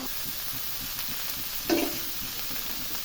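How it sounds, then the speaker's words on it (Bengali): Bitter gourd with green chillies stir-frying in a pan, a steady soft sizzle with a brief louder scrape of stirring partway through, no voices. "কাঁচামরিচ দিয়ে এখন নেড়ে চেড়ে ভালো করে ভেজে নেব"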